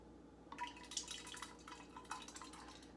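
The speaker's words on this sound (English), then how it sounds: "I'm going to add that strawberry syrup." Strawberry syrup pours and trickles into a pitcher, a faint, close, steady liquid splash with a few drip-like spurts and no talking.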